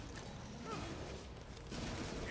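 Gunfire in the survival-horror game Resident Evil Village, played as Chris during a boss fight: a rapid, dense fusillade of shots running continuously under a busy game soundscape, fairly distant and muffled rather than sharp.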